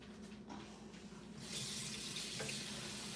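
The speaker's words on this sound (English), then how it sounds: "I'm just gonna rinse this off." Something is rinsed under a running kitchen tap: a quiet trickle that turns into a fuller, steady rush of water about halfway through and keeps flowing.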